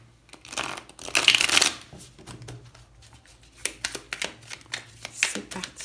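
A deck of tarot cards being cut and shuffled at close range, with a loud riffle burst near the start and then a run of quick papery flicks and taps that come and go.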